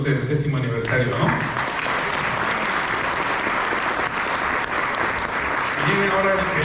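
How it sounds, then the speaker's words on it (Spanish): Applause from an audience at a logistics breakfast event marking a 10th anniversary, steady dense clapping filling the room throughout, with some voices mixed in at the start and end. "merece un aplauso del 10º aniversario"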